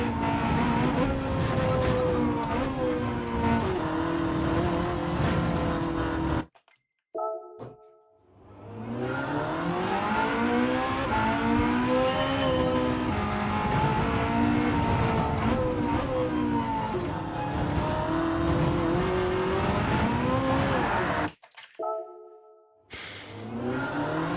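A race car laps Le Mans in Gran Turismo 7, its loud engine droning and rising through gear shifts almost continuously, broken by two brief drops, with no talk.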